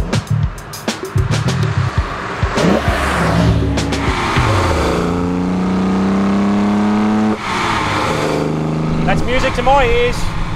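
A 1972 Holden XU1 Torana race car engine with six Weber carburetors fires up and revs hard, climbing in pitch as it accelerates, loud and close, with brief talk at the start and end.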